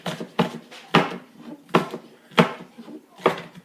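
A knife chops an orange pepper on a cutting board, giving five or six sharp, evenly spaced knocks against the board, loud and close, with no talking.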